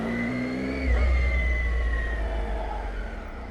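An adventure motorbike engine running in first gear under clutch control on a countryside byway, a steady low drone that surges as the revs lift, with a whining note above, close and continuous with no talk.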